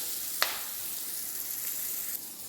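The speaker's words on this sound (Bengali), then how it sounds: "সিমগুলোকে আমি এরকম হালকা লাল লাল করে" Flat beans frying in oil with a little salt, a faint, even sizzle with one sharp crackling spatter early on.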